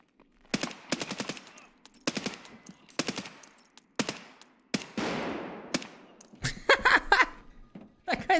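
Gunfire from the video game Escape from Tarkov in PvE mode: several loud, close bursts of rapid automatic shots separated by short pauses, with a reverberant crackling tail and a final cluster of sharp shots.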